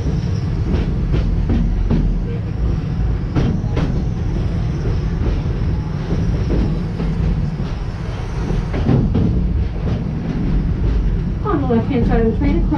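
A Busch Gardens tour train rolls steadily along its track with a low rumbling drone and periodic clicks of the wheels, close and continuous, while a guide's amplified voice talks over it and a brief squeal rises near the end.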